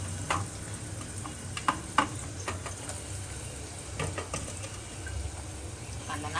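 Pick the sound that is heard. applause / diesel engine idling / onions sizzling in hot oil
onions sizzling in hot oil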